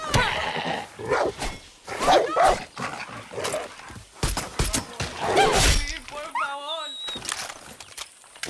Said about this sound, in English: Oh fuck, there's a dog there.